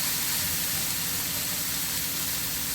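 Leucas aspera greens fry in a wok over the flame, giving a steady, even sizzling hiss with a faint low hum underneath, constant and close without pauses.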